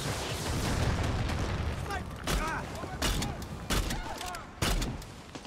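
Enemy gunfire in the video game Far Cry 6, several sharp bursts at about two, three, three-and-a-half and four-and-a-half seconds over a dense, rumbling battle din.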